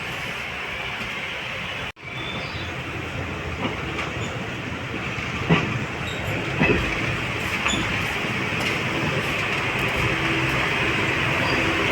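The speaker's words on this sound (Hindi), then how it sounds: "यह ट्रेन हमारी अपनी ऑन टाइम नटेसर जंक्शन से खुल गई है" An Indian passenger special train pulls out of Natesar Junction, heard from inside a nearly empty coach as a steady loud rumble with rail clatter and occasional clunks, one brief dropout early on, and no talk.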